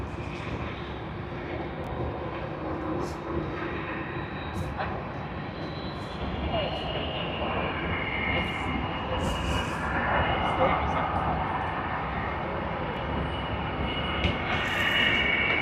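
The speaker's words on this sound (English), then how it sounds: "And now we have Air Canada Boeing 777-200 airline to Vancouver" An Air Canada Boeing 777-200 airliner at Sydney Airport gives a broad engine rumble and roar that builds gradually, with a person talking intermittently over it.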